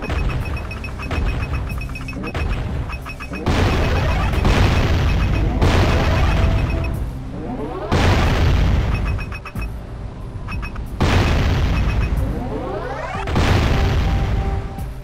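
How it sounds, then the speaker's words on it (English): Cannon fire in the Jak and Daxter: The Precursor Legacy video game: a run of loud, booming blasts about every couple of seconds, each with a ringing tail, over game music and no talk. "It is fun to shoot the cannon"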